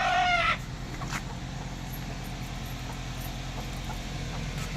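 A domestic hen that has just laid an egg gives a short burst of loud clucking at the very start, followed by quiet farmyard background.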